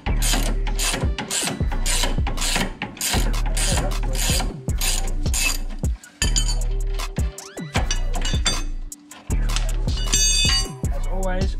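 Rapid ratcheting clicks of a wrench turning the bottom bolt of a BC Racing coilover on a Ford FGX, in repeated close bursts with metallic clinks and brief pauses, a voice talking at times.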